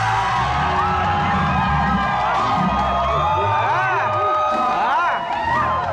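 A game show audience cheers loudly for a contestant, with whoops and children's shouts over steady crowd noise, and a presenter talks throughout.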